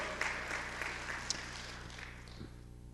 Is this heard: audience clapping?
yes